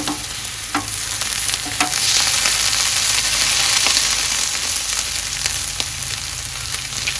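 Frozen food frying on a Blackstone griddle outdoors, a loud, steady, close sizzle that swells slightly midway, with occasional faint clicks of a spatula and no talking.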